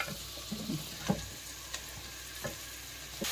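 Chopped mushrooms fry in a pan for soup with a soft, steady sizzle, broken by a few faint clinks and stirring taps.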